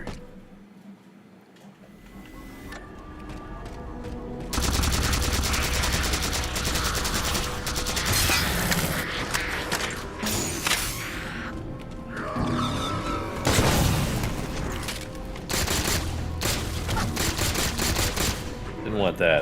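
Video game gunfire crackles in bursts, with rapid automatic fire and sharp sniper cracks coming in dense, loud stretches separated by brief quieter gaps, with some voice mixed in.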